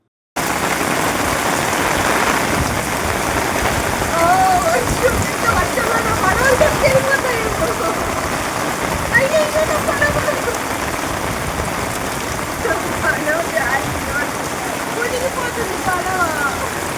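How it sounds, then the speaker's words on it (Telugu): Heavy rain pours steadily during flooding, a dense, loud, continuous hiss of water that holds for the full length, with no clear pauses. "ఫుల్ వర్షం ఈ వర్షంలో నా పడవలు కొట్టుకెళ్ళిపోతాయి"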